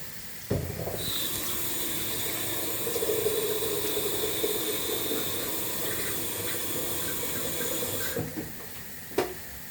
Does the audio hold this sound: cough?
no